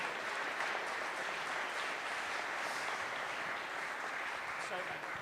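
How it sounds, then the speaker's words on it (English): Audience applause in a church at a Silver Eco Award presentation as a local MP is called to the front; a soft, continuous wash of clapping, moderately distant and even throughout. "Let's give him a round of applause as well."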